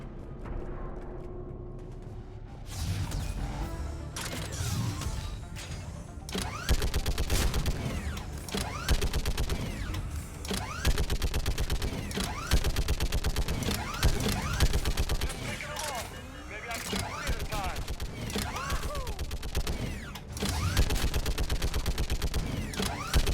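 Sustained rapid gunfire from the Typhoon gun in Mass Effect Legendary Edition, with a mechanical whirr and a dense rattling stream that runs almost continuously after a short spin-up, broken only by brief pauses.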